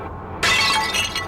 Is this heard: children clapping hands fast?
no